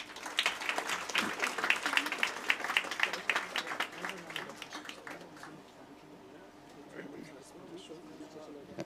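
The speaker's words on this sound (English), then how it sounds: "With a huge round of applause, let us all welcome them on stage." An auditorium audience at a medical college induction function claps loudly, individual claps distinct, then the applause fades to a softer patter as scattered voices carry on beneath.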